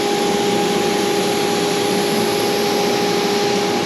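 A CNC router spindle spins without cutting while making rustic wooden underliners for cast iron griddles, a loud steady whine with a sustained high tone and an even airy roar.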